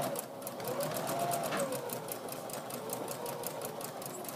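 A sewing machine stitches across the tops of apron pockets, a steady fast hum with rapid even needle ticks running throughout at moderate level, no voices.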